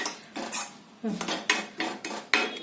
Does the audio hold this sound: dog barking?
no